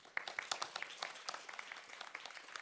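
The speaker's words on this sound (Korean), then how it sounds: "여러분 큰 박수로 환영해 주십시오" A conference audience applauds to welcome a session chair, a steady burst of many hands clapping that lasts a few seconds with no one speaking.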